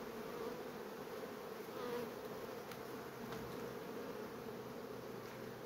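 Honey bees hum in a dense, continuous buzz at an outdoor beehive, a close, steady swarm drone with no voices over it.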